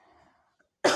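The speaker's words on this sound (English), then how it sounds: "I'm very sorry for coughing." A single sharp cough bursts out near the end, loud and close, after a faint murmur of quiet room sound.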